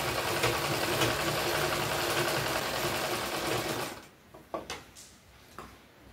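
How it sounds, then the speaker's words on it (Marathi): An electric sewing machine stitches a cloth bag with a steady, fast mechanical whir and rattle for about four seconds, then stops, leaving a few faint clicks and handling knocks. "हे बघा या पद्धतीने आता शिलाई मारून घेणार आहे मी"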